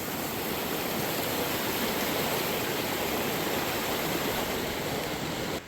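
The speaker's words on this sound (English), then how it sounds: "water's getting fast now" Fast-flowing creek water rushes steadily at a creek crossing, a dense, continuous broadband roar close by with no pauses.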